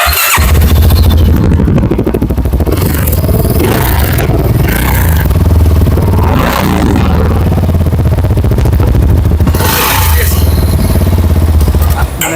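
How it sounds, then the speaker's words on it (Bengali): A white CFMoto 300SR motorcycle's engine and exhaust rev hard and loud up close, a continuous roaring drone that rises and falls through repeated throttle blips. "বাইকের যে এক্সজস্ট সাউন্ড বলতে একদম অসাধারণ, মারাত্মক এক্সজস্ট সাউন্ড"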